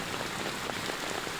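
Hailstorm rain pounding down in Hubballi, a steady dense hiss of drops and ice striking surfaces, loud and unbroken throughout with no voices.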